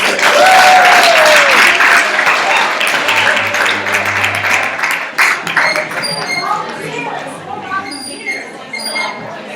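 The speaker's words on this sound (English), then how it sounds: "Give yourself a round of applause." A San Francisco workshop audience applauds loudly in a room, with a dense wash of clapping that gradually thins, while chatter, light clinks and voices carry on underneath.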